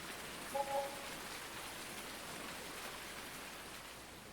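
Rain in the farming video game Farming Simulator 19, a steady, even hiss of falling drops that continues without a break, with a faint brief tone near the start.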